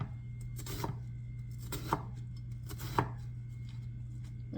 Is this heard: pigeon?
no